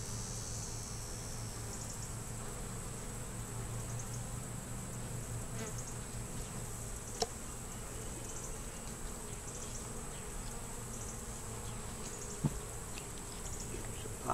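Bees buzzing around a pine tree while gathering pollen, a steady, faint high drone of many wings with occasional soft clicks and no talking.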